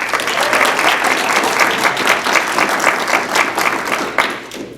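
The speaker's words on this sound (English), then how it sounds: "The audience will have one opportunity for applause after I introduce both candidates" An audience claps steadily for the two candidates at a Denver City Council District 10 debate, dense, loud applause filling a room and sustained throughout.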